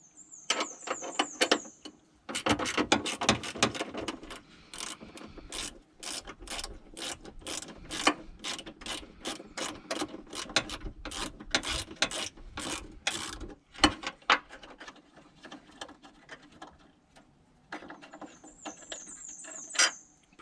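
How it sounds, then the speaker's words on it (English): A hand ratchet clicks in a rapid, steady run of sharp ticks while backing out a 10mm headlight assembly bolt on a car's front end, close and alone, with brief pauses and a few louder clacks. "take that one bolt loose and it'll allow you to get the headlight assembly out."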